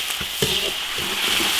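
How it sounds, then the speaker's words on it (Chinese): Ginger, Sichuan peppercorns, chilies, spices and soybean paste sizzle in hot oil in an iron wok over low heat, with a steady frying hiss and a few short scraping stir strokes. "小火慢慢炒，把它那个味儿煸炒出来"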